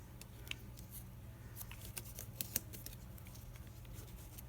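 Scissors cut through washi tape in a run of faint, quick snips and paper rustles, set over a low background hum.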